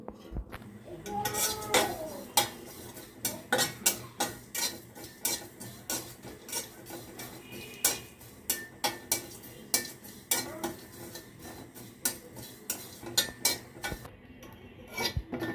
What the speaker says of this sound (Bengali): এই মশলাগুলো এখন আমি ভেজে নিব।